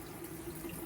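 Water runs steadily through the open valve of a Rheem tankless water heater during annual maintenance, a continuous close rushing flow with no talk.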